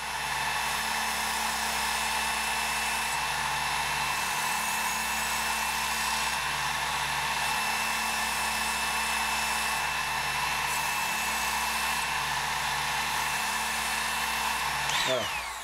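A Work Sharp Ken Onion electric belt sharpener with a narrow belt whirs in a steady, even high-pitched hum while polishing a knife edge, running continuously up close for the whole stretch before spinning down at the end.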